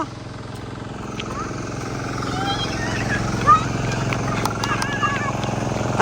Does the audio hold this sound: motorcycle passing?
yes